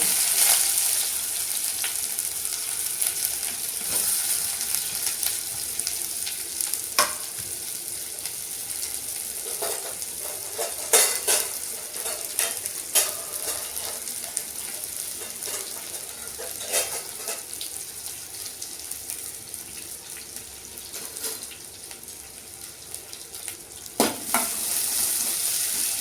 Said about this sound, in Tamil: இப்போ இதில் வந்து வெங்காயத்தை போட்டுக்கலாம்.